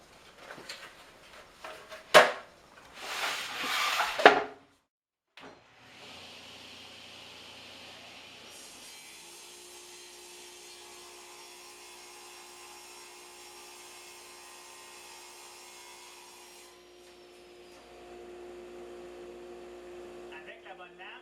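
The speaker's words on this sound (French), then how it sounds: "Avec la bonne lame, ça fait une belle coupe propre." A saw blade runs through wooden boards for a walk-in closet drawer, a steady mechanical whine after a few sharp knocks, moderately loud and sustained for several seconds.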